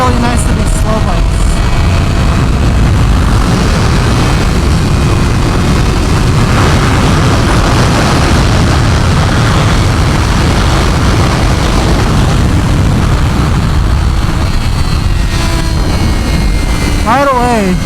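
A 2025 Honda CBR1000RR-R Fireblade sportbike engine roaring under hard acceleration on a track, loud and continuous with wind rush throughout and rising revs near the end.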